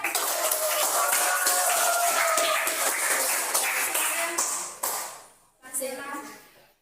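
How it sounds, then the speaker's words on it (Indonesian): Classroom applause as students clap for a group about to present, dense continuous clapping for about five seconds, then a brief pause and a short fading second burst. "Oke, tepuk tangan dulu sebelum mereka tampil."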